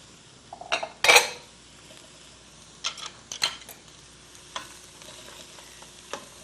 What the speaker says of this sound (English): we'll start by sauteing our onions